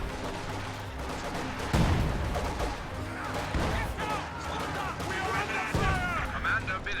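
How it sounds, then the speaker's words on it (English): Field gun artillery fire booms in a World War II strategy game, with a few heavy thumps and crashes among scattered gunfire, while a voice commentates throughout. "that was a pretty big hit from the field gun"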